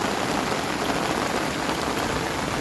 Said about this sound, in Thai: มองไปฝั่งนู้นมีแต่ฝน